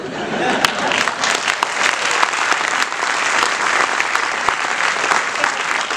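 Audience clapping at a seminar talk, a loud, sustained burst of many hands with sharp individual claps standing out, steady for the full few seconds.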